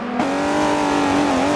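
A race car's engine drones steadily at high revs in Forza Motorsport 7 on the Watkins Glen circuit, loud and continuous with a slight pitch dip near the end, with no talking.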